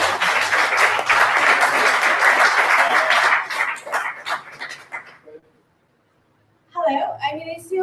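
An audience applauds and cheers loudly and steadily for about five seconds, then the clapping thins out and fades to silence before a voice begins speaking near the end.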